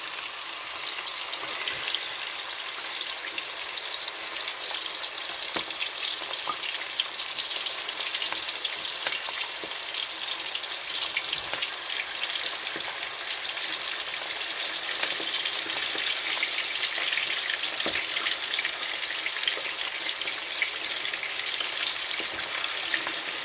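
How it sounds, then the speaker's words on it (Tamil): Large anchovies (nethili) frying in hot oil in a home kitchen, a steady dense sizzle running unbroken throughout with small crackles and occasional faint stirring taps, no voices. "நான் இப்போ நெத்திலியை பொரிச்சிக்கலாம்."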